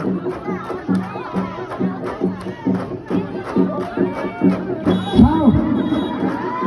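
A festival crowd at a Lao merit-making ceremony cheers and claps in rhythmic bursts, a dense near chorus of shouting voices and hand claps with chatter woven through.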